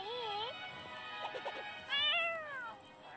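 A cat in the fantasy RPG Princess Connect! Re:Dive meows several times, wavering high cries with a short chirping burst in the middle, clear and close over quiet game background.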